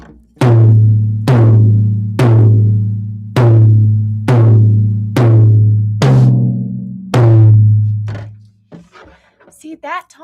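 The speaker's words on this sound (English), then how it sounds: "that tom sounds beautiful" A tom drum struck repeatedly during tuning, eight loud close hits at a slow, even pace, each with a sharp attack and a booming, pitched decay. Faint voice-like noise follows at the end.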